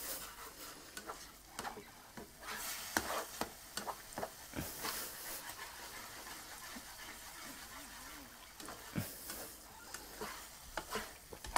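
Chicken and vegetable mince cooking in a pan without oil, stirred with soft scraping and faint sizzling in irregular strokes, quiet and close, no talking.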